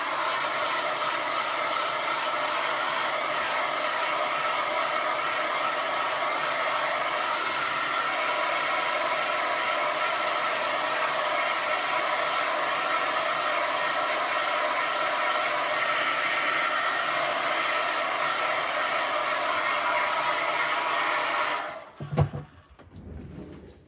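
A hair dryer drying a watercolor layer, blowing with a steady, loud, close whoosh for about twenty seconds before switching off abruptly, followed by brief handling noises.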